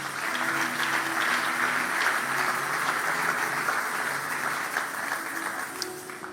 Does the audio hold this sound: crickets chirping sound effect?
no